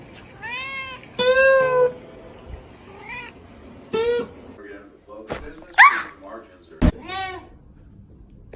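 A pet cat meows in a few short, drawn-out calls spread across the stretch, close and fairly loud, with people talking in between.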